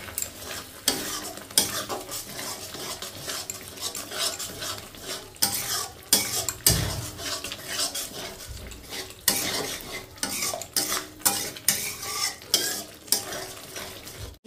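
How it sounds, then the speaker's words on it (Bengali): Yogurt being stirred steadily into a spiced fish curry in a pan, a utensil scraping and clacking against the metal in continuous irregular strokes over a soft sizzle of frying, close and unaccompanied by talk. "টক দইটা দিয়ে অনবরত নাড়াচাড়া করতে হবে"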